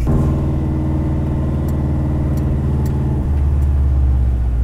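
An all-wheel-drive Mazda Miata's engine pulls hard under acceleration, a loud, close, steady droning roar heard from inside the car that climbs in pitch, then shifts to a lower tone partway through.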